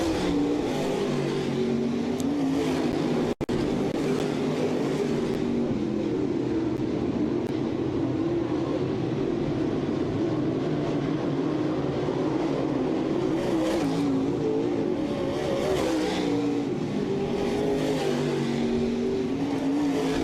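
Race cars in a heat race at Southern Ontario Motor Speedway, their engines a continuous, dense roar that swells and fades slightly as the pack circles, heard from trackside.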